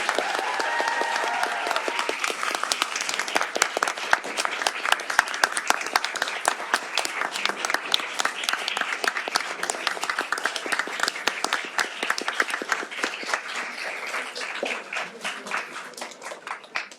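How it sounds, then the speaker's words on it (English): Audience applauding two candidates at the final round of a law school moot court competition, a dense, steady clatter of many hands clapping that fills the room, with faint voices at the very start. "there should be an applause for these two candidates."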